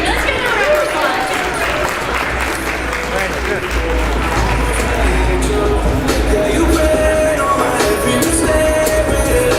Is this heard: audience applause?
yes